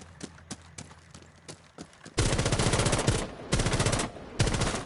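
Rapid automatic gunfire from the Rainbow Six Siege video game, with a few quieter shots early on before loud, sustained bursts break out and continue with brief pauses.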